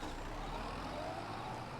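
A tractor engine in Farming Simulator 22 drones steadily and loudly, straining as it pulls a wide disc implement across a field, with no pauses throughout.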